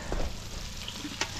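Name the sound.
boiled potatoes frying in oil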